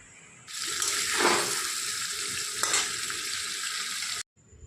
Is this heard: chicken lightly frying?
yes